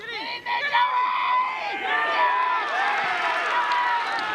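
At a Hobart versus Lindisfarne SFL football match, a crowd erupts after a goal, shrill cheers, whoops and screams swelling loudly and holding for several seconds.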